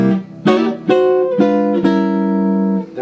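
Four guitar chords struck one after another, a double chromatic approach sliding into a flat-7 chord, each ringing clearly and sustaining, the last held long before fading.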